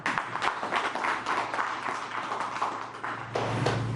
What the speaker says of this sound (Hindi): मैं सबसे निवेदन करूंगा कि आपके लिए तालियां हो जाए